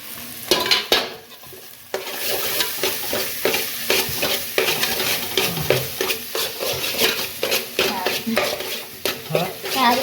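Potatoes for batata vada tip into a hot pan and are stirred briskly, with a loud rattle and scrape of a spoon against metal repeating rhythmically over a frying sizzle, close by and with no talk.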